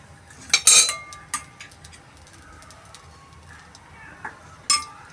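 Pav bhaji being served from a pan onto a plate, with a few sharp metallic clinks of a spoon scraping and tapping cookware, short and close, separated by quiet gaps.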